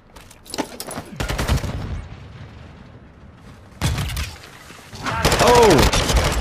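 Rapid bursts of automatic gunfire in Call of Duty MW2, several sharp volleys of varying loudness separated by short gaps, with some talk at times.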